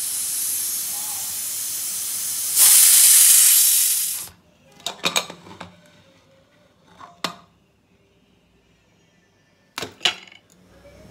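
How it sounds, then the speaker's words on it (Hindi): A pressure cooker of rice and vegetables on a low-to-medium flame lets out a loud, close steam hiss rising into a whistle for about four seconds. It then stops, followed by a few scattered metallic clinks. "ये अब प्रेशर कुकर का ढक्कन बंद कर देंगे और लो टू मीडियम फ्लेम में तीन सीटी आने देंगे।"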